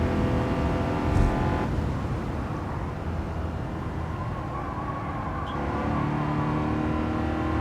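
Race car engine in the Gran Turismo 7 video game, a steady loud drone with a high whine that shifts pitch near the start, then holds a sustained roar through the rest, no talking.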